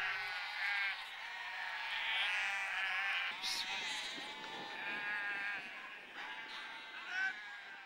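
Sheep bleating on an upland hill farm, several overlapping calls close by, continuous and fairly loud with no talk over them.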